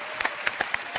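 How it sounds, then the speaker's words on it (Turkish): Brief studio audience applause on a Turkish talk show honoring the late Barış Akarsu, a quick patter of scattered claps from a crowd, moderate in level with no speech. "Hatta bir alkış da alalım sevgili Barış'a."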